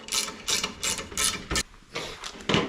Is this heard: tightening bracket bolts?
yes